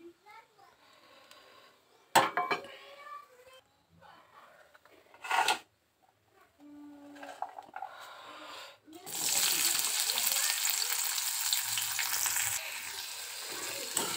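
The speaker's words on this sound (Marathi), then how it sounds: "कांदे मी टाकून दिलेले आहेत तेलात आणि लसणाच्या ज्या पाकळ्या आहेत त्यासुद्धा टाकलेल्या आहेत." Onions and garlic cloves frying in oil in a kadhai, a loud bright sizzle that bursts in after several seconds of quiet kitchen sounds, clinks and a voice.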